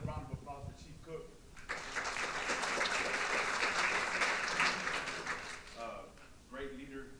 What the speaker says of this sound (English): Another round of applause for Chief Cook.